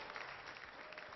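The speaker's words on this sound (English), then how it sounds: "This is where you applaud" Steady studio audience applause on a television talk show, a short continuous burst of clapping at even loudness with no voices over it.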